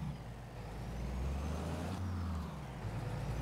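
A truck in Farming Simulator 22 pulls up, its engine a steady, close, low rumble with a brief shift in tone partway through. No one talks.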